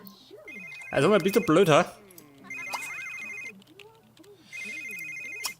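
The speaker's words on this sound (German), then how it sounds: "Handy." A mobile phone in The Sims 3 plays a repeating electronic ringtone in three bursts, interrupted by loud expressive Sim gibberish and someone speaking German over it.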